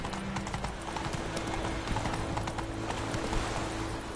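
Hooves of Roach, the horse in The Witcher 3, gallop in a steady, rapid clatter close by, with a continuous tonal background underneath throughout.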